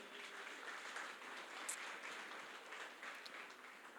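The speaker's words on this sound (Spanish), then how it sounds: "denles un aplauso a la generación prepandemia" Church congregation applause for the pre-pandemic generation, a steady, faint wash of many people clapping heard from a distance, with no talking over it.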